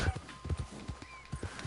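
Horse hooves clip-clop at a steady walking rhythm in a cowboy video game, about eight fairly loud, close thuds over a soft background hum, with no talking.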